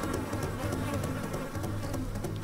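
Bees buzz in the Mini Ninjas video game, a continuous droning hum with a low rumbling background that holds steady throughout.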